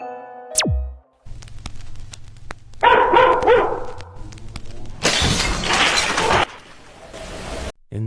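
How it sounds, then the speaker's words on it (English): A dog barks in a series of sharp, loud calls picked up by a security camera, mixed with abrupt thuds and bursts of harsh noise that drop out and cut back in. "we can see a dog sensing something's presence and starting to bark"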